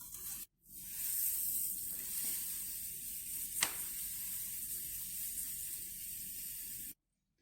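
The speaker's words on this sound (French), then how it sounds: "on va prendre le sucre et on va remplir 2 pots du yaourt" Sugar pours steadily into a yogurt pot for a cake batter, giving a close, even hiss that lasts several seconds before it stops abruptly.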